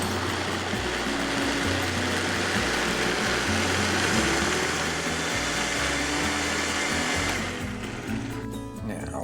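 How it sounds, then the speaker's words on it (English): A kitchen blender pureeing cooked ingredients for a traditional Mexican dish: a loud, steady motor whir with a churning, slightly pulsing texture that runs continuously, then winds down and stops near the end. "put the blender jar back on the base, and we're gonna blend it until we have a smooth puree"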